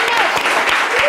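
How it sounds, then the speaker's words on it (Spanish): Studio audience applauding a guest on a Colombian talk show, a dense continuous wash of clapping filling the whole moment at close, loud level. "Fuerte aplauso para Santiago Rodríguez."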